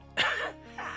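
A single harsh cough bursts out close to the mic, followed by a rougher throat-clearing hack, with no talk around it.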